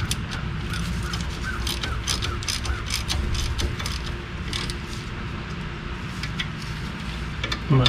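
A hand ratchet clicks in fast, steady bursts while brake caliper bolts are run back in on a 1994–2001 two-wheel-drive Dodge Ram 1500, close and crisp throughout with no talk.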